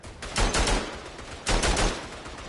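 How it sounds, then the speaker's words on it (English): Bursts of automatic gunfire in a Western Front war video game, two loud rattling volleys about a second apart, each made of several rapid shots, with no talk over them. "Somebody's shooting up there."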